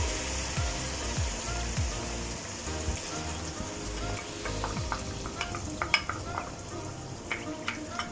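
Mutton karahi frying in a pan on low heat as yogurt is added, with a steady broad sizzle throughout and occasional stirring scrapes and small pops toward the end.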